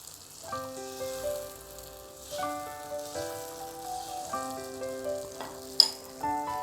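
Continuous gentle sizzling and crackling of Korean pancake batter cooking in a round in hot oil, with a soft clatter near the end; no talking.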